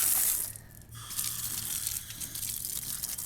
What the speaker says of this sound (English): So I'm gonna go ahead and rinse this wheel off.